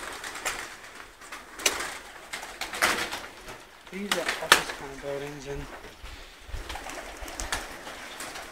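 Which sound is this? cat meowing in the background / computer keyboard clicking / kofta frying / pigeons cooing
pigeons cooing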